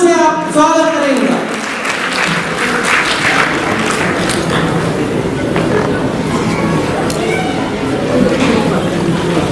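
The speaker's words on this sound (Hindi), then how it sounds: "जोरदार तालियों से आप स्वागत करेंगे" Loud, sustained applause from an audience welcoming a speaker at a public gathering, dense clapping filling the room after a brief opening voice.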